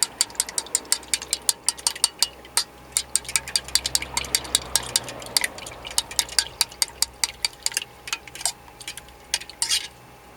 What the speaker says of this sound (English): A dash of milk. Mix up with a fork.